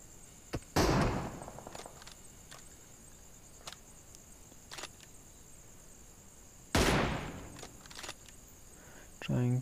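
Sharp M24 sniper rifle reports in a PUBG match on the Erangel map, two loud isolated cracks several seconds apart, each with a short decaying tail, plus a few fainter distant pops in between and a brief burst at the very end.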